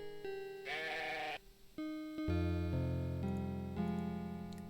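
Sheep bleating in the Robin Hood: Conquests of the Longbow video game, a wavering synthesized bleat set over game music with sustained tones.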